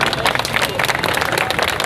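Audience applause at a political speech in Pakistan, a dense burst of clapping from a crowd lasting about two seconds, fairly loud and continuous.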